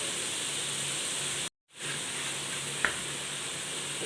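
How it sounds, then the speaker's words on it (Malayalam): Cut paneer cubes frying in hot oil give a soft, even sizzle and hiss, steady apart from a sudden silent gap and a faint clink, with no voices. "എണ്ണ ചൂടായി വന്നിട്ടുണ്ട് ഇതിലേക്ക് നമ്മൾ മുറിച്ച് വെച്ചിരിക്കുന്ന പനീർ ഇട്ട് കൊടുക്കാം"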